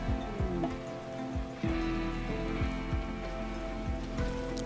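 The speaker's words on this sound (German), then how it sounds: "Regen ist gar nicht mal so schlecht." Steady rain in the video game RimWorld Alpha 17, a dense even patter and hiss on surfaces with soft drip-like ticks, continuous and without speech.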